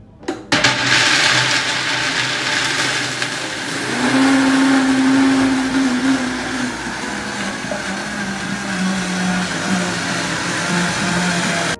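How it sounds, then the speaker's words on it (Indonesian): A Vitamix blender grinding almonds into almond butter, a loud steady motor whir that shifts pitch as the nuts break down, running continuously throughout. "Di sini saya pakai blender Vitamix."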